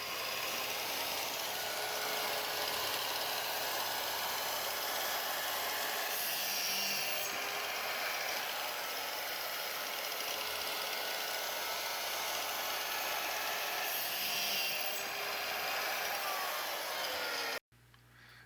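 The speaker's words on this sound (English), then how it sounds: "this shows the stepper motor spinning that ball screw" Stepper motor spinning a ball screw on a fretboard slotting jig, a steady broadband mechanical whir and hiss running continuously at even loudness for about seventeen seconds, then cutting off abruptly.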